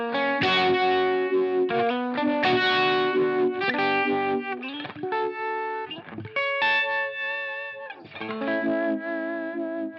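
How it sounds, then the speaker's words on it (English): An electric guitar runs through a Line 6 Helix Uni-Vibe model, its chords swirling with a pulsating phase effect whose rate speeds up, playing alone and close with a slightly driven tone. "you hear basically how the rate just speeds up this sort of pulsating phase sound"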